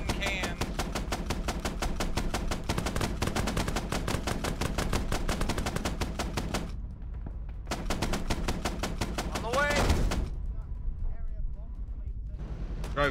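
Rapid automatic gunfire from an M48 Patton tank in a Vietnam military simulation game rattles in dense, loud bursts, pauses briefly, then fires again, while crew voices call out commands over the shooting.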